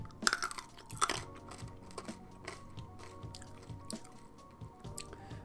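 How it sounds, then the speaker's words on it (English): Crunchy snack being chewed close by, with a couple of sharp louder bites early on and then steady softer munching throughout. "apologies if you start hearing some crunching."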